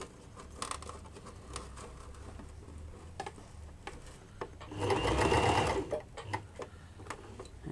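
A sewing machine stitches fabric for a machine-made flower flounce, with scattered clicks and handling sounds before a brief, close, steady whir of stitching.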